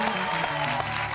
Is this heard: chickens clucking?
no